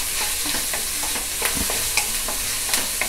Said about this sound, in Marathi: फक्त हे व्यवस्थित आपल्याला चांगलं भाजून घ्यायचं आहे. हा कांदा